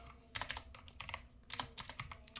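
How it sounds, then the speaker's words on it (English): Rapid typing on a computer keyboard, a close, fast patter of key clicks in uneven bursts with short pauses. "I need to slow down with the typing."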